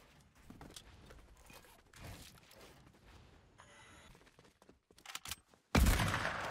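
Fortnite gunfire on the Chapter 1 map: scattered quiet shots and impacts build into a loud, sudden burst of rapid fire near the end.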